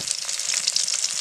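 Sizzling of a single dried red chili hitting hot oil in a pan, a steady close crackling fry with no voices.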